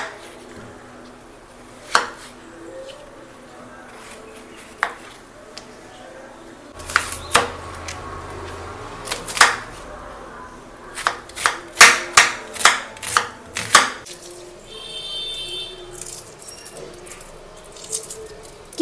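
Potatoes are cut into small pieces in a kitchen, with sparse knife taps at first, then a quicker cluster of sharp chopping knocks on a board.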